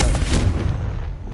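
A Confringo spell detonates in the Hogwarts Legacy video game, a single heavy, near blast with a short crackling decay, heard alone.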